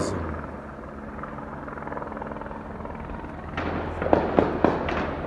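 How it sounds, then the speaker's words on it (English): Low rumbling rotor drone of a helicopter nearby during a police shootout in Rosettenville, Johannesburg, with a few sharp loud gunshot bangs bursting out near the end. "Check out this helicopter."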